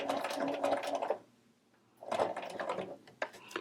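A sewing machine stitches a tiny doll-clothes collar in two close bursts of rapid needle chatter with a short quiet pause between, and a soft click at the end.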